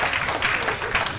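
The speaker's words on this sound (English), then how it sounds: "Clap for yourselves." A women's conference audience claps for themselves, a brief burst of dense applause with crowd noise mixed in.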